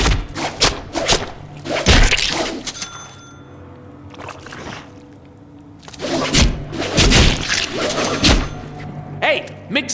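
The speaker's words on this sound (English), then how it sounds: "mix our light and heavy attacks together and see what happens" Melee punches and strikes land on goons in the Deadpool video game, a series of heavy thumps and thuds in clustered bursts, with voices speaking between the blows.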